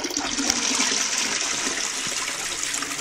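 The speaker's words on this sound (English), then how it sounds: "I'll flush the toilet" A toilet flushes in a house bathroom, a steady close rush of water that holds for several seconds with no talking.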